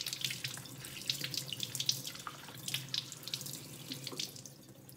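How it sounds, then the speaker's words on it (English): Celery is washed under a running kitchen tap, a steady close splash of water with irregular bursts as the stalks break the stream. "I'm just washing off the celery."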